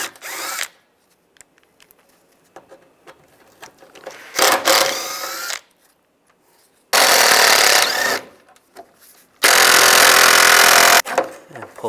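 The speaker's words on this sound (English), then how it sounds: "these 4 screws, we're going to use a T30 for those screws" Power driver with a T30 Torx socket backing out screws on a 1999-2005 Volkswagen Jetta radiator fan assembly, several loud close whirring bursts of a second or two separated by quieter handling clatter.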